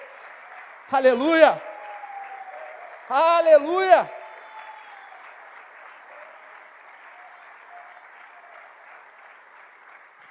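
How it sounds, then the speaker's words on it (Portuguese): A church congregation applauds steadily at moderate level, with two loud shouted exclamations of praise rising over the clapping in the first few seconds before it continues more softly. "pode aplaudir a Ele"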